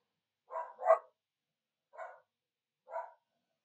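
A dog barking indoors, four short, fairly faint barks in an uneven rhythm, the first two close together, the others spaced out, with silence between them.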